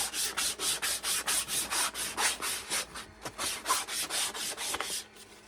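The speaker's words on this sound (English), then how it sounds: "this is sanded to 150 grit" A wooden walking cane is rubbed with 150 grit sandpaper in a steady run of brisk, even back-and-forth strokes, close and scratchy, with a short pause before the strokes resume.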